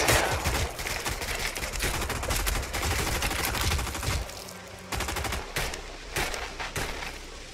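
Dense, rapid gunfire from the World War II shooter game RAID, with overlapping automatic bursts and scattered shots forming a continuous loud fusillade for several seconds.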